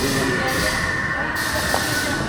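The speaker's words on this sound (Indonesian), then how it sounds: "itu namanya kereta raksasa" A giant train rumbles loudly and continuously nearby, a heavy roar with a faint hiss running through it for about two seconds.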